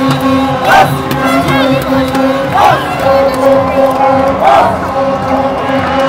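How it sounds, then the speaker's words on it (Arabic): Cameroonian fans in a stadium in Cameroon chant and cheer for Egypt's Mohamed Salah during an Egypt versus Senegal match, a dense crowd roar with rhythmic chant swells rising every couple of seconds over constant background hubbub. "الجماهير الكاميرونية هنا بتشجع منتخب"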